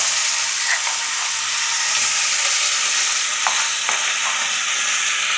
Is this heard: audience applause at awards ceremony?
no